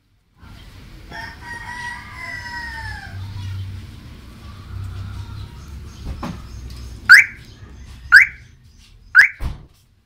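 After a quiet stretch of faint background sounds, a car horn sounds four short, loud beeps close by, spaced about a second apart.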